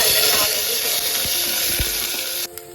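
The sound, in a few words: garlic frying with dried red chillies in a pan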